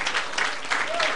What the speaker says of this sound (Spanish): Denle un aplauso, dele gracias